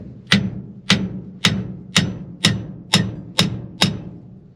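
Eight sharp metallic hammer blows strike a stuck part on a 1964 Ford F100 pickup with a Crown Vic engine swap, evenly spaced about half a second apart, each ringing briefly, close and loud with no voices.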